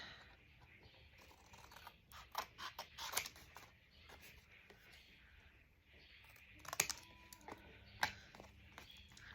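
Scissors snip around the edges of recycled magazine paper in a quiet indoor craft setting, a scattered series of soft, close cuts and rustles that come in small bursts with pauses between.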